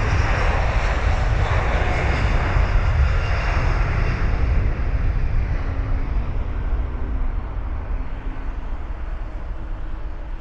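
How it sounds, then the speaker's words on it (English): A Virgin Atlantic airliner takes off near Heathrow Airport, a loud, steady roar of jet engines with heavy low rumble that slowly eases as the aircraft climbs away. "Plane's taking off, look."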